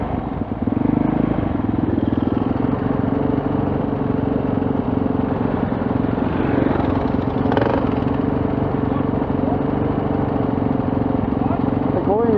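A Yamaha XT500 motorcycle with its throttle stuck wide open drones loudly and continuously at high revs, a steady pulsing engine roar, with people talking faintly underneath.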